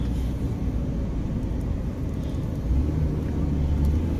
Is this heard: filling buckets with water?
no